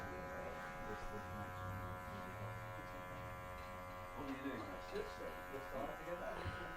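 Electric hair clippers set to a 0.25 guard hum steadily and faintly while trimming a man's hair, a low continuous buzz running under a quiet voice.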